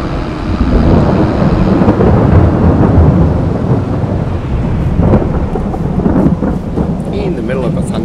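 A thunderstorm with heavy rain in the farming game Farming Simulator 22, a dense, steady roar of downpour and rumbling thunder that fills the whole stretch, loud and close.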